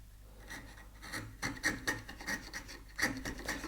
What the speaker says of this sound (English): So we go in with the chisel.